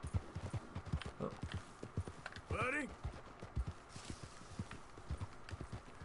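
Horse hooves clip-clopping in a steady walking rhythm in Red Dead Redemption 2, with a brief whinny partway through and someone talking over the footfalls.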